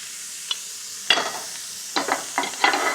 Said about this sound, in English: I want to brown those vegetables, and it'll take 3 or 4 minutes.